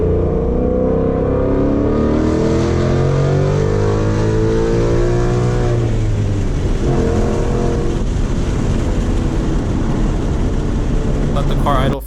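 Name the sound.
2019 Mustang GT engine revving at wide open throttle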